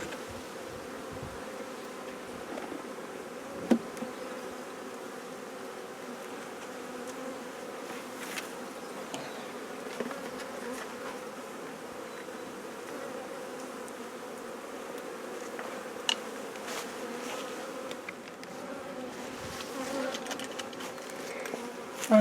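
Honeybees buzz steadily around a hive box as a queen is united with a queenless colony, a constant close drone with a few louder passes of individual bees and no talking.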